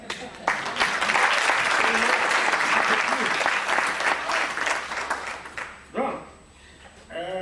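An audience at the APTICA 2013 congress round table claps in loud, dense applause that fades after several seconds, followed by someone speaking.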